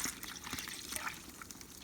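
Water trickling and dripping into a turkey brining container, a steady low splashing pour with faint drips, close by and alone.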